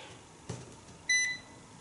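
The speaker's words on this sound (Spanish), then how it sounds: "nos dará también un pitido de aviso" A Nokta Makro Pulsedive underwater metal detector switching on gives a short, bright electronic warning beep, close and clear, preceded by a soft click in an otherwise quiet room.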